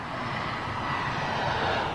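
An aircraft landing on a runway gives a continuous, fairly loud engine roar that swells slightly and stays steady throughout, with no talking.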